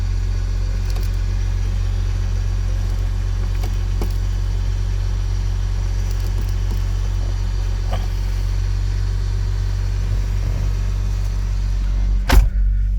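A Lexus RX330 with a throttle actuator fault idles steadily without revving, a constant low engine rumble heard close up, with a brief clunk near the end and no talking.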